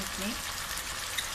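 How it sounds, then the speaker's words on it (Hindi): Whisked yogurt hits a pan of frying liver masala, giving a steady, dense sizzling hiss that holds evenly through the brief moment. "और अब हम इसमें दही फेंट के डालेंगे।"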